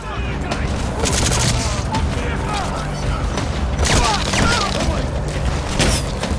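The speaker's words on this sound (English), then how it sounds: "Another nice shot there by Quiet." Sniper shots and other gunfire boom through the African jungle combat of Metal Gear Solid V: The Phantom Pain. Loud repeated blasts and mechanical clatter sit over a dense game soundscape, with voices talking throughout.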